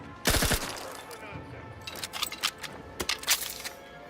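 Submachine gun fire in the video game The Outer Worlds 2, a sharp close burst of several rapid shots followed by scattered softer cracks and impacts.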